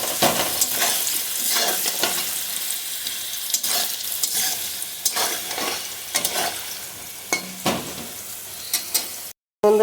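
Potatoes frying in a pan, prepared for a vegetarian bottle-gourd kofta dish, with a steady crackling sizzle and repeated scraping stir strokes close up, broken by a brief silence near the end.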